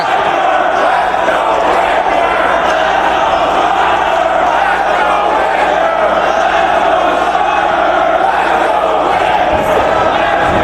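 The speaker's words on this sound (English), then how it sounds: "there you hear the crowd totally showing their respect for both B.J. Whitmer and Matt Stryker" A wrestling crowd at a Ring of Honor match cheering and chanting for B.J. Whitmer and Matt Stryker, a loud, continuous roar of massed voices that never lets up, dense and close with no gaps.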